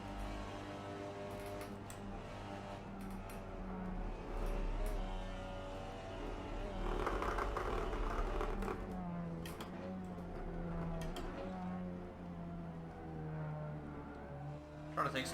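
A Seat Leon TCR touring race car in Assetto Corsa at Paul Ricard, engine droning and revving steadily through gear changes for the whole stretch, with someone talking over it at times.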